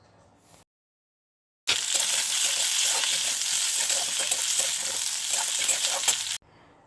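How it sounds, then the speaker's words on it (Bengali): Charmagaj melon seeds lightly fry in hot oil in a pan, giving a close, steady crackling sizzle that starts abruptly, runs for several seconds and cuts off. "আর একটুখানি চারমগজ দিলাম তেলের মধ্যে। এটাকে হালকা ভেজে নেব"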